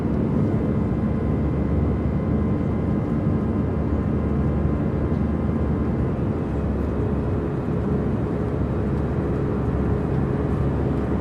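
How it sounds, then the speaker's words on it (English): A Boeing 737 in a flight simulator game, heard as a steady, loud, low jet-engine drone that stays constant throughout with no talk over it. "What aircraft are we flying today? It's a Boeing 737."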